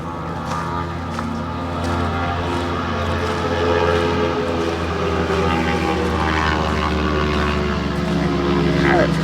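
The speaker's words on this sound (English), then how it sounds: "Certainly got something going on with his exhaust, that one." A vehicle with a loud, modified-sounding exhaust runs at the Phillip Island GP circuit by the ocean, giving a steady, droning engine roar that swells slightly as it continues.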